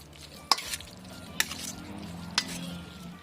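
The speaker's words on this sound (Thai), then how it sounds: "คนส่วนผสมทั้งหมดให้เข้ากันนะคะ" Spoon stirring a raw pork dumpling filling seasoned with garlic, pepper, sauce and sugar, giving three sharp scraping clacks against the bowl over a soft, steady background.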